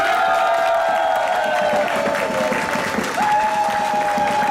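Improv theater audience members clap to vote guilty, a steady, moderately loud burst of applause with scattered cheers and voices threaded through it.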